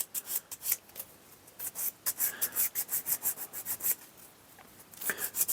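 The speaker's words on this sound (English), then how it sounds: "I will give this once again a little bit of a sand down" A wooden zodiac clock piece is sanded by hand, giving repeated close rasping strokes in an uneven back-and-forth rhythm, fairly loud and with no voice over it.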